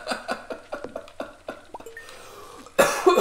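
A person coughs in a quick series of sharp, close bursts, followed by a brief pause and then a louder harsh cough or throat clearing at the end.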